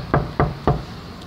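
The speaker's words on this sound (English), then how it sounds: "Now I have to knock on the door." Three firm knocks on an apartment door in an even rhythm, close and sharp, followed by a brief quiet pause.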